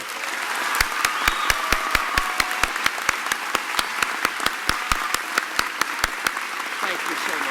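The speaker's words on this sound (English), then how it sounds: "Let's have a great round of applause now." Audience applause at a 2016 community college commencement ceremony on the Jamestown campus, steady dense clapping filling the hall, with a few sharper distinct claps standing out in a rapid rhythm throughout.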